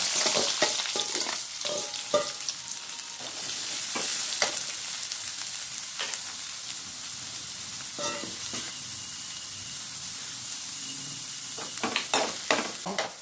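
Chopped big onions sizzle in hot oil for a coriander chutney, a steady frying hiss broken by repeated stirring clatters and scrapes, close and fairly loud, with no voices.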